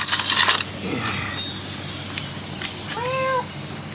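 A cat gives one short, clear meow near the end, after quieter rustling and a faint click from work on an air-cooled VW Type 1 1600 engine outdoors.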